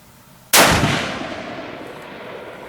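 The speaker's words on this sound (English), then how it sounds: "Well, that was the first shot." A single loud rifle shot from a Savage 99C chambered in .284 Winchester at a shooting range, a sharp crack followed by a long fading echo.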